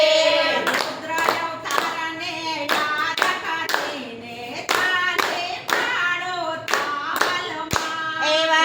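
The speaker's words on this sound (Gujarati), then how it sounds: "રુદ્ર અવતારને યાદ કરીને તાળી પાડો તાલમાં।" Hands clap in rhythm along with a devotional bhajan sung for Hanuman Jayanti. The sharp claps stay steady under the melodic singing throughout.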